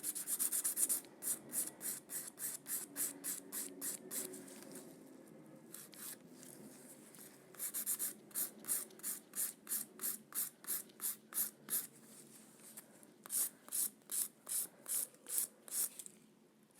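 Rapid, rhythmic rasping strokes of a file against a nail, in several bursts separated by short pauses, close and crisp.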